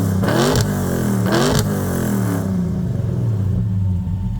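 A Mopar car engine revs outdoors in two sharp rising bursts that peak and fall away, then settles into a loud, steady idle rumble with no talking.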